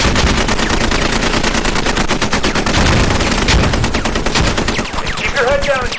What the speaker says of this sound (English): this is a live fire exercise